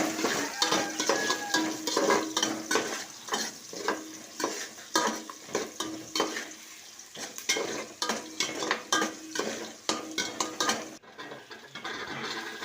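Onion fries in hot oil in a pan for ridge gourd sambar, a soft sizzle broken by repeated scraping stirs in an uneven rhythm, near and fairly quiet.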